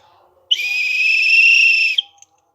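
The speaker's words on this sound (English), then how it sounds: "when there is a whistle sound" A single loud, steady whistle tone sounds for about a second and a half, starting abruptly and cutting off sharply, with near silence before and after.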